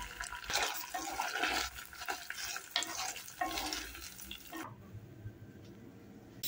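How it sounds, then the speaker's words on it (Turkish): Bulgur wheat tipped into a pan of overcooked peppers and tomato paste on a home stove, bringing a busy stirring, sizzling and scraping for several seconds before the frying abruptly quietens near the end. "Bulgurumu ekliyorum."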